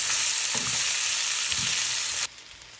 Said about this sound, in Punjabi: ਆਪਾਂ ਹੁਣ ਪਾ ਦਵਾਂਗੇ ਪਿਆਜ਼ ਪਿਆਜ਼ ਨੂੰ ਆਪਾਂ ਚੰਗੀ ਤਰ੍ਹਾਂ ਮਿਕਸ ਕਰ ਦਵਾਂਗੇ ਵਿੱਚ